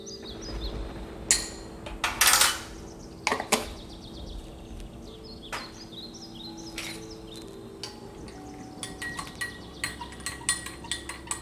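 A spoon stirs agar agar powder dissolved in hot water for homemade watermelon jelly, making sharp metallic clinks and taps against the bowl at irregular intervals, close and clear with no talk.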